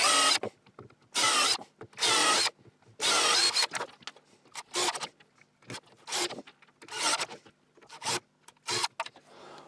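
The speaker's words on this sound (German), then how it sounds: "Und da bohren wir jetzt einfach mal rein." Repeated bursts of loud, harsh grinding as a power drill mounted in a drill stand bores into wood, several long passes followed by shorter, choppier ones, close up with no talking.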